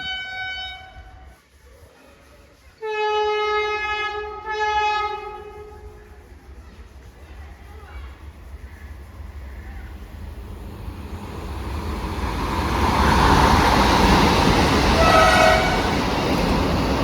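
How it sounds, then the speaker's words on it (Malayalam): Thiruvananthapuram–Kasaragod Vande Bharat express approaching a station at Ezhimala, sounding a loud multi-tone horn in two blasts early on, then a rising roar of the train drawing near. "തിരുവനന്തപുരം കാസർഗോഡ് വന്ദേ ഭാരത് ഇപ്പോൾ വരും കേട്ടോ."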